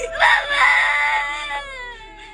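A little girl from a movie scene cries and screams, a loud, shrill wailing burst with sobbing pitch sweeps that gradually tapers off over a couple of seconds.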